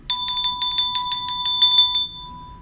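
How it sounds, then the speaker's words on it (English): A small handheld bell rings in a rapid, bright burst of about a dozen quick dings over two seconds, marking a hit pulled while opening a Heritage box of baseball cards; no one speaks. "here I'm going to ring the bell simply because it's a hit in a Heritage box"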